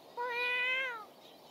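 A single clear meow from a cat in the video game Megaton Musashi, drawn out and moderately loud over a quiet background.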